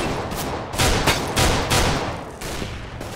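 Deagle pistol shots in Counter-Strike: Global Offensive deathmatch practice, several loud sharp reports fired in an irregular sequence with short gaps between them.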